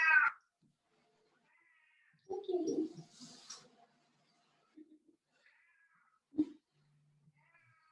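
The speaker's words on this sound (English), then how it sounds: "All the kitties are saying hello tonight." Several house cats meow and trill indoors during a quiet leg and hip stretching session: a high meow first, then a longer chattier call, with a few short chirps later and brief spoken words between them.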